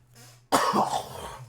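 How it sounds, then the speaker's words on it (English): One person coughs and clears their throat, a short, close, harsh burst of sound after a brief quiet moment. "Let me clear my throat."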